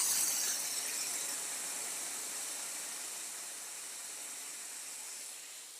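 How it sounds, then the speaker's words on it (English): A Steam Master dry vapor steam cleaner pushes steam through its hose, a strong, bright continuous hiss that starts loud and slowly eases off over several seconds, heard alone. "when we press this light on, it now talks to the hose, and we'll have steam"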